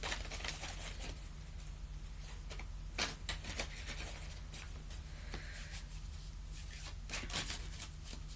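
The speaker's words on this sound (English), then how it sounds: "actually going to physically shuffle the deck" Quiet, close shuffling of a deck of oracle cards, with soft riffling and patting bursts under a faint steady hum, plus a few sharper taps as the cards are squared.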